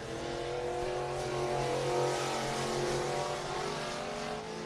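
A Rayburn race car roars at I-75 Raceway in Niota, Tennessee, its engine a loud, steady drone holding high revs for several seconds with no voice over it.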